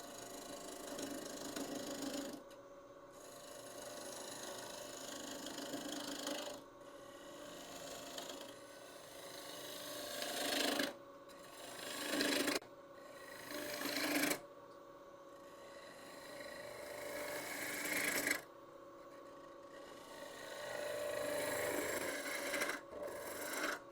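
A gouge scrapes and cuts an end-grain wooden bowl on a spinning lathe in long rasping passes, broken by short pauses, with the motor humming throughout.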